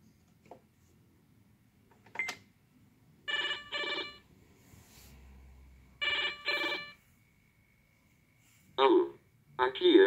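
A 1990s Tec Toy Tele Papo toy telephone rings in short electronic double bursts, loud and close, recurring several times with quiet gaps and short voice snippets between them.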